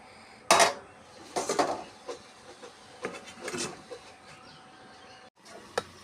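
A lid comes off a cooking pot of Malabar spinach stewed with potato, eggplant and pumpkin: a sharp metallic clatter, then a few quieter knocks and scrapes, and one last clink near the end.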